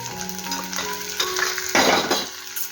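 Turmeric, coriander and cumin powder fry with ginger-garlic paste in an oiled pan for a drumstick curry, a close soft sizzle and stirring scrape that swells into a louder hiss near the end, with faint music beneath.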